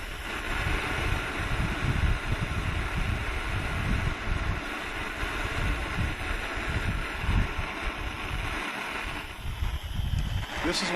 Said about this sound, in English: This is one of those moments that having a shop with no wind would probably be pretty beneficial.